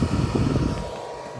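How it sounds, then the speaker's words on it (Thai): A small cooling fan spins inside a solar charge controller on a 12V DC home solar setup, a steady close rushing whir that eases slightly partway through, with no talk. "เสียงพัดลมหมุนนะครับ"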